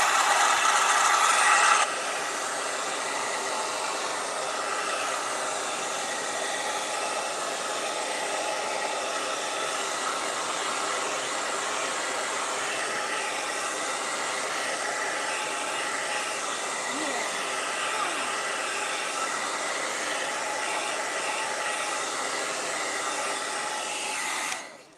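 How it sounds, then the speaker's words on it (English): A hair dryer blows continuously to dry a base coat of paint on a hat, a steady whirring hiss that runs unbroken for about twenty-five seconds, slightly louder at the start, before switching off. "I am going to quickly turn on my hair dryer to let this base coat dry"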